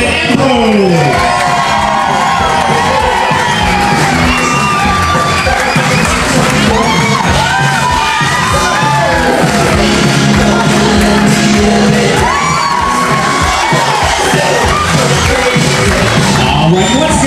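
Wedding guests at a reception in Look Park, Florence, Massachusetts, cheer the bridal party, a loud, sustained roar of whoops, shouts and applause from a large crowd that keeps going with no let-up.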